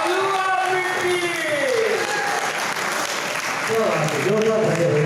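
Applause from a theatre audience at a media festival in Ratlam, with steady clapping throughout and a voice speaking over it.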